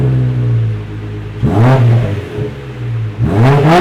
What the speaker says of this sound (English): We're gonna run it without a muffler real quick and see what happens